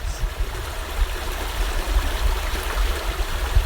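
The River Nadder between Dinton and Lower Chicksgrove flowing steadily, a continuous close rushing and burbling of stream water with a low rumbling undertone and no talk.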